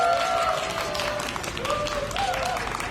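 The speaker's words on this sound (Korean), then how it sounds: "큰 박수 부탁드리겠습니다." Audience clapping at an outdoor press conference in Busan marking Disabled Persons' Day, a moderate, somewhat distant patter of hands with a faint tonal whine and a few murmured voices mixed in.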